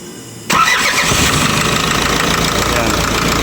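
An Isuzu 4HL1 diesel engine cranks and catches, then settles into a loud, steady clattering idle with harsh knocking throughout, close to the mic.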